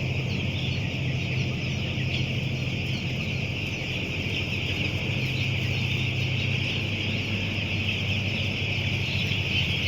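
Eight-day-old broiler chicks on a poultry farm, a dense, continuous chorus of cheeping and clucking from many birds close by, over a steady low hum.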